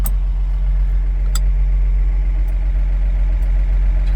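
A 1964 Ford F100 engine idles steadily and close up, a low, even rumble with no voices, its choke partly set so it runs a bit rough, plus a few faint clicks on top.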